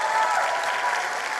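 A school audience claps for the top matric learner at a results announcement, a brief burst of close, dense applause filling the room at full strength.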